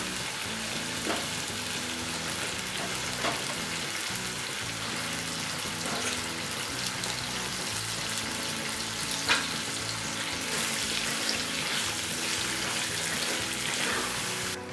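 About a kilo of washed prawns, rubbed with salt and turmeric, sizzles steadily in a hot pan of oil and tamarind for a simple prawn thokku, a close continuous hiss broken by occasional stirring clicks.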